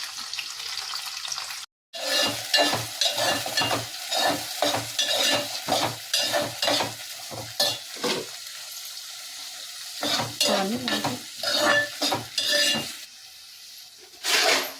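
Sliced onions and green chillies fry in a pan for mutton curry, stirred with quick repeated scraping strokes over a constant close sizzle; the stirring breaks off briefly twice, then resumes in uneven bursts.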